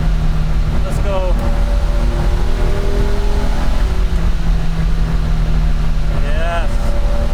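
A 1974 Porsche 911 engine drones loudly and steadily while driving, with a couple of quick rising revs as it accelerates, close and continuous from start to finish.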